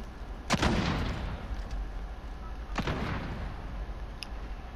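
Two sharp gunshot blasts ring out in a video game battle, the first around half a second in and the second a couple of seconds later, each trailing off over a steady rumbling background.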